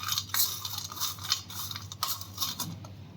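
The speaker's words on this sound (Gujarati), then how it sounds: "અને ઉપરથી આપણે હવે ચીલી ફ્લેક્સ એડ કરશું થોડીક, અને આ બધાને આપણે સારી રીતે મિક્સ કરી લેશું." Spoon scraping and clinking in a bowl while leftover-roti stuffing is mixed with chili flakes, light irregular metallic taps and stirring over a steady low hum.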